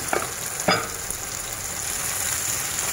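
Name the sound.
sliced apples added to a sizzling pan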